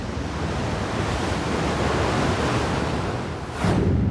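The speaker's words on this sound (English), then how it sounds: "We can hear the water moving in and out" Ocean tide waves wash steadily in and out with a loud, continuous roar of surf, swelling slightly louder near the end as water surges closer.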